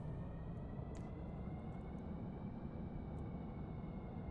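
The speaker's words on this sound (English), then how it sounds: "let's go ahead and we'll start taxiing" Military aircraft taxiing in the game Stormworks, a steady, low engine drone that stays even and unbroken throughout, with faint higher tones above it and no talk.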